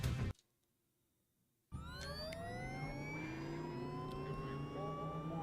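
Car engine in the driving video game OutDrive: after a short burst and a second of near silence, the engine revs up and holds a rising, steady synthetic whine.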